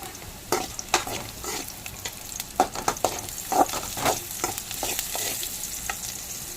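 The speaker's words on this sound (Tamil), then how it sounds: "இப்போ பாருங்கள் அப்படியே வெங்காயம் தக்காளி அப்படியே பூண்டு இல்லை கொஞ்சம் இஞ்சி அப்படியே காஞ்ச மிளகா அதுனா வரமிளகா ஒரு 5 வரமிளகா போட்டுக்கலாம்" Onion, tomato, ginger and five dried red chillies fry in oil for a pickle, sizzling steadily while a spoon stirs and knocks against the pan in irregular close clacks, with no talking.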